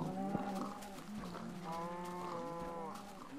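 Cows in the Minecraft video game moo in a few long, drawn-out lowing calls, one after another, heard alone and fairly quiet.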